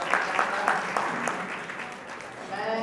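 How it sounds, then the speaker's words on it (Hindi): An audience at a college convocation ceremony applauds to welcome guests, loud sustained clapping from a crowd that fades slightly, with a voice over the sound system near the end. "मैं एक बार जोरदार तालियों से उनका स्वागत करना चाहूँगा"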